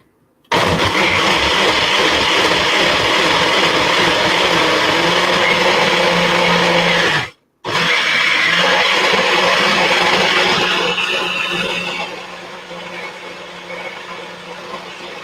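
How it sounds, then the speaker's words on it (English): A countertop blender runs loud and steady for about seven seconds, cuts out briefly, then restarts and whirs on before its pitch and volume drop as it winds down, heard up close with no talk. "And we're just getting this blended up good."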